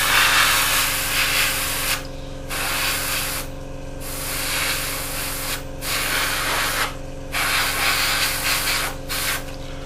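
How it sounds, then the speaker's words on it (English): An airbrush sprays paint onto a Hasegawa 1/48 Draken plastic model kit, a loud close hiss in repeated bursts of one to two seconds separated by brief pauses, over a steady compressor hum. "while we're spraying everywhere around here, we can just do this back area, back up there"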